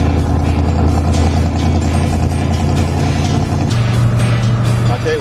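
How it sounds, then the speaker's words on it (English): Street rod cars run a lap of a famous track, a loud, steady blend of engine rumble and passing traffic with a deeper drone joining near the end. "Today, 800 street riders take to the track, making one lap around the famous course"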